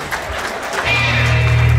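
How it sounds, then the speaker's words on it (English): Wedding reception guests break into steady applause for the couple, a dense crowd clapping that swells in and holds under a low musical hum. "Please give her a round of applause."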